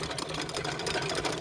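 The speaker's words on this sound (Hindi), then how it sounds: "अब भाई थोड़ा इंजन का स्पीड बढ़ा देते हैं।" An irrigation pump engine running in a farm field, a dense, steady mechanical clatter with fast, even pulsing that stays loud and close throughout, with no talk.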